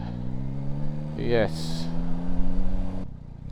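A Yamaha Tracer 9 GT+ motorcycle idles with a steady low engine hum, then blips the throttle in one quick rev with a rising exhaust note before settling back, with someone talking over it.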